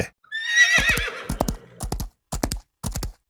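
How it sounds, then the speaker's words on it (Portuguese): A horse spurred on gives a loud shrill whinny, then breaks into galloping hooves, quick clusters of sharp clip-clop beats with brief pauses, near and clear with no talk. "E, sem perder mais tempo, Tex esporreia o cavalo."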